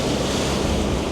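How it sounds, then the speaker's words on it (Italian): Large waves crashing against a harbour wall on a rough day in Crete: a dense, loud, continuous roar of surf and spray mixed with heavy wind buffeting the microphone, no voices. "Che onde!"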